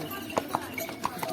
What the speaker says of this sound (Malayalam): എന്താ വലിയ കുതിരവണ്ടി ഇത് വരുന്നു.